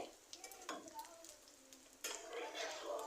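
A semolina paratha fries in oil in a pan as it is turned, a soft crackling sizzle with scraping and stirring touches, quiet and close, rising again partway through.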